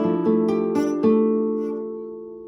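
Plucked guitar notes ring out one after another, building into a chord that sustains and slowly fades, clear and close.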